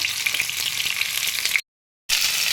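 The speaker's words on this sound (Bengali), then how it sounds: "পটলগুলো আমার ভাজা হয়ে গেছে" Decoratively cut pointed gourd slices fry in hot oil in a pan, giving a steady, close crackling sizzle. The sizzle cuts out briefly to silence, then resumes.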